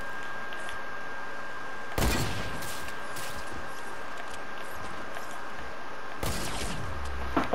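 Gunfire in the video game Fortnite, two loud bursts of shots with a steady game background hum between them.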